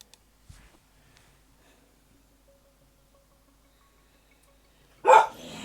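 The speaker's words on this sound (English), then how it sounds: "Dog." A dog barks a short, loud burst near the end, following several seconds of near silence in a room.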